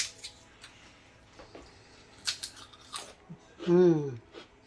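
Several sharp, crunchy bites of freeze-dried jackfruit and crackles scattered through the clip, close up, with a brief voice-like sound near the end.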